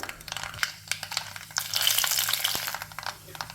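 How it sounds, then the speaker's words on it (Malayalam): Mustard seeds and curry leaves frying in coconut oil in a kadai, giving a close, crackling sizzle dotted with small sharp pops that swell briefly in the middle. "അടുപ്പിൽ കടായി വെച്ചിട്ട് നമുക്ക് അതിലേക്ക് ഒരു മൂന്നാല് ടേബിൾ സ്പൂൺ വെളിച്ചെണ്ണ ഒഴിച്ചു കൊടുത്തിട്ട് ഒരു ടീസ്പൂൺ കടുക് അല്പം ഉതിർത്ത കറിവേപ്പില"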